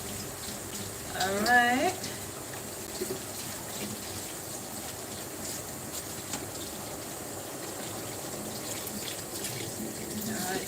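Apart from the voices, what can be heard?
tap water running while washing up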